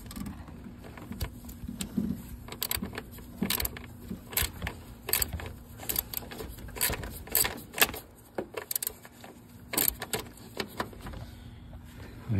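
Ratchet with an extension loosening a bolt while replacing the cooling fan on a 2012 Ford Escort: faint, irregular metallic clicks and clanks close by, scattered over quiet workshop background with no talking.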